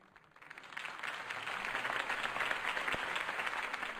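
Crowd applause following a campaign speech by Harvey Dent in the Batman Telltale video game, rising from quiet into a steady, dense wash of clapping that holds at a moderate level.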